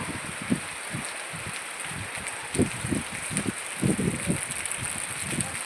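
Heavy rain and wind in Palakkad, with a steady broadband hiss of rainfall throughout and low gusty rumbles and thumps from the wind coming and going.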